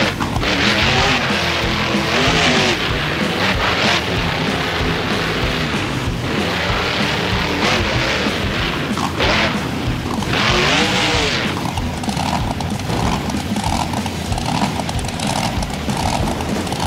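The El Diablo monster truck in the driving game BeamNG Drive roars along with a loud, continuous engine drone, broken by heavy thumps and crashing bursts as it lands and smashes, with no talk over it.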